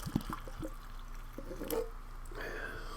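Boiling water goes into a Chinese PLA Type 17 self-heating ration pouch of clay pot rice: a few soft drips, then a brief, steady trickle of pouring near the end.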